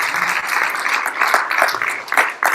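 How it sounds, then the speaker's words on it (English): Audience applause for event co-chairs at a monthly organizational meeting, a steady burst of many hands clapping that fills the room for the whole stretch, with no one talking over it. "So I definitely want a round of applause for our event co-chairs."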